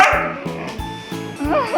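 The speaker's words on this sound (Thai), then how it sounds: "พี่เมฆเขากลัวเสียงเห่าค่ะ" A small dog gives a run of sharp, high yips and barks, four or five quick repeated bursts up close, with a few whiny edges between them.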